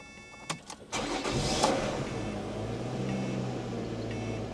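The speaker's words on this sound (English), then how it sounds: "I'll start it real quick while we're sitting here" A 2011 Lotus Evora engine cranks with a few short starter bursts, then catches and settles into a steady, strong idle, loud and close.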